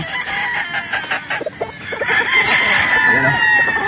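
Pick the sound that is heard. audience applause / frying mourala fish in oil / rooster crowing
rooster crowing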